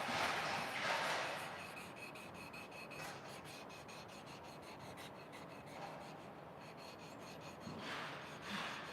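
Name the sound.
hand sanding desk surface with 1000 grit sandpaper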